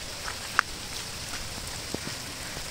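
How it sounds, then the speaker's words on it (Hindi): Steady rain falls outdoors as a soft, even hiss with a few distinct drop taps standing out, continuous and alone with no voices. "आज ही बारिश रुक नहीं रही है।"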